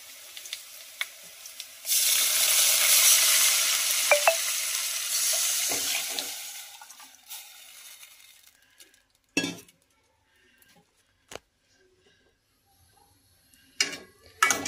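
Kadhi mixture poured over fried pakoras in a pan for dhaba-style kadhi pakora sizzles loudly for a few seconds, then gives way to sparse spoon clinks and scrapes against the pan.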